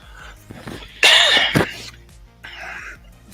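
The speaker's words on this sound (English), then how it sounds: "this coughing's never gonna stop" A man coughs and clears his throat in a few harsh bursts close to the mic, with a loud central fit followed by a softer rasp, during a live crypto market stream.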